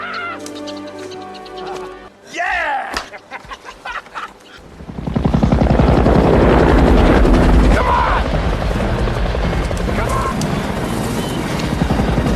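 A helicopter flying over a forest, its loud steady rotor drone rising and holding after a stretch of scattered bird calls and rustling, dominating the scene to the end.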